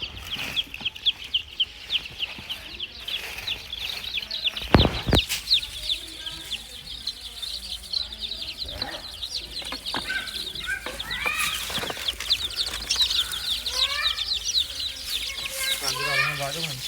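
Many chicks peep continuously in a busy chorus while hens cluck now and then, with a flap of wings and some talking in between.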